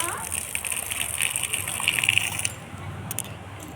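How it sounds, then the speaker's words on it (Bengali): Water is poured from a container onto a potted tulsi plant, a steady splashing gush lasting a few seconds before it trails off, with voices talking over it. "এই গাছটাতে একটু জল দিয়ে দিই, তুলসী গাছে একটু জল দিই।"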